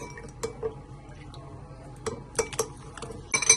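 A spoon stirs herbs into melted butter in a small dish, making faint, scattered clinks and taps against the sides with quiet pauses between them.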